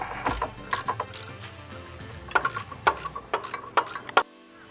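A ratchet wrench with an extension and a long socket loosens a bolt during water pump replacement on a 4.3L S10/Sonoma, giving a series of close, sharp clicking bursts in irregular groups, then ending abruptly.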